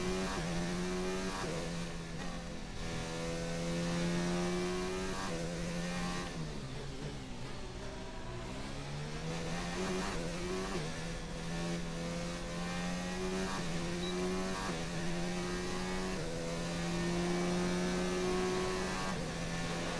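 A Formula 1 race car engine in a racing video game screams steadily at high revs, pitch rising and falling through gear changes and corners across a continuous lap, loud and unbroken with no talking.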